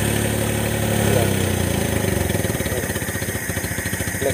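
A Suzuki F6A engine with a carburetor idles close by as it warms up. It makes a steady, rough mechanical drone with a pulsing, chugging rhythm that grows more distinct toward the end.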